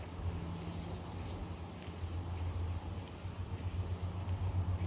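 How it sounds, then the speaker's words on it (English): A faint, steady engine drones far off in the woods, a low continuous rumble carrying under wind noise without a break. "And it's still going off the engine sound in the distance or whatever."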